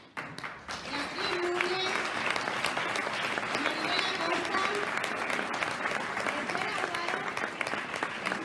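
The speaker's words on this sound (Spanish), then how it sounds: "Que suban al escenario y recibamos con un fuerte aplauso a Rosy Cartas" A theatre audience at the opening of a drama festival in Jarandilla claps steadily as honorees walk onto the stage, a sustained wave of applause heard under a voice reading out names.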